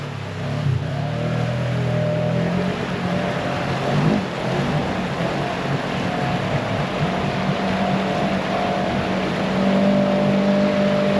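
A Polaris RZR side-by-side grinds through a muddy, rutted trail, its engine droning loud and steady for the whole stretch with slight surges, and no voices.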